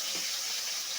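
Water poured in a steady gush over cooking spices in a pan, a short continuous hiss and splash close by with no talk.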